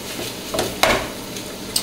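Ground beef cooks in a pan on a gas stove, giving a soft, continuous sizzle broken by a few sharp clinks and scrapes of stirring, close by.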